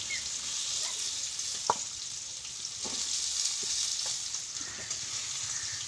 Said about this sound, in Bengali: এটা প্যাকেটের পনির আছে, ওই জন্য আমি একটু অল্পই ভাজলাম।